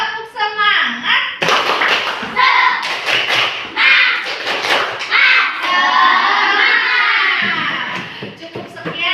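Schoolchildren in an Indonesian classroom do a rhythmic spirit clap, sharp patterned hand strikes mixed with loud chanting children's voices up close.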